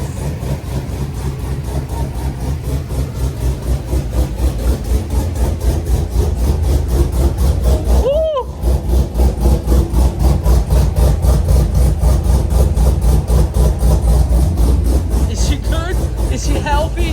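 A swapped Corvette engine idles roughly and loudly in a fast, pulsing rhythm that shakes the car, with one brief whistling rev blip midway before the lumpy idle carries on.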